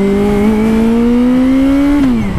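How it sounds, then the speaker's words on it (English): Suzuki GSX650F motorcycle engine heard from the rider's seat, droning loud and steady as revs climb smoothly for two seconds, then dropping as the throttle eases, with no distinct pop standing out. "if you get on the throttle, it makes a pop, and then the throttle comes on"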